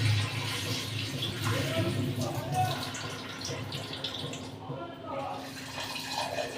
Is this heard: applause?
no